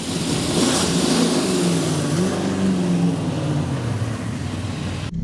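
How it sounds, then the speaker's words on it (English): A V8 Supercar engine roars loud and close, revving and accelerating steadily as a turbocharged all-wheel-drive Daihatsu Mira street car races alongside it, the drone rising and falling in pitch throughout, with no talk. "I'm racing a Daihatsu Mira against a V8 Supercar."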